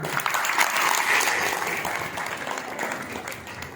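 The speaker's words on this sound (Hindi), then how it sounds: "जोरदार तालियों से" Warm applause from devotees at a Guru Purnima festival gathering as volunteers are honored: lively, dense clapping from a crowd, loud at first and easing slightly toward the end, with no speech over it.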